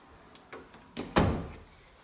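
A few soft clicks and a latch, then a laundry closet door in an apartment thuds and swings open with a short rumble, close by in a quiet room.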